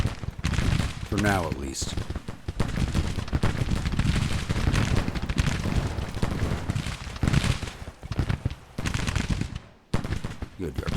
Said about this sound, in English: Good, the artillery's firing.